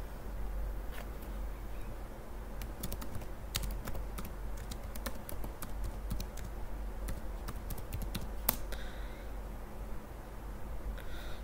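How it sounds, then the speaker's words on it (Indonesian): Computer keyboard typing a Linux command, a quick run of close key clicks over a steady low hum, with no talking. "Kita ketikkan"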